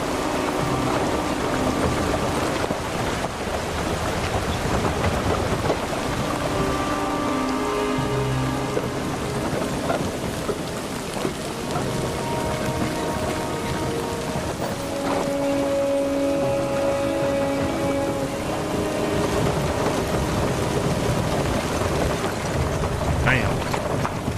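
Heavy rain pours steadily in the video game Kingdom Come Deliverance 2, a constant dense hiss with low thunder rolling beneath, while characters talk over it throughout.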